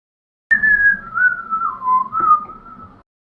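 A person whistles a cheerful, wavering tune alone for about two and a half seconds, close and clear, with a few short breaks between phrases.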